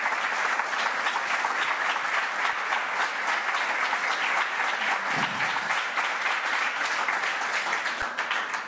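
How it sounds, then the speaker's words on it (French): An audience at a business conference keynote gives sustained applause, a full, steady roar of many hands clapping at even loudness throughout. "Un petit applaudissement pour notre ami Jonathan."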